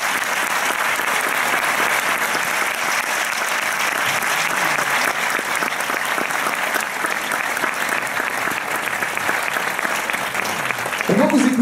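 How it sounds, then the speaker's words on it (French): A hall audience claps continuously for a filmmaker, thick even applause running throughout, with a brief voice surfacing near the end. "on peut l'applaudir évidemment"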